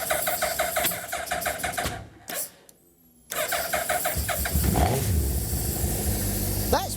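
A Suzuki Hayabusa engine in an MK Indy Sport 200 kart cranks, stutters and catches, then settles into a loud, rough, steady run close by, with a brief lull before it fires.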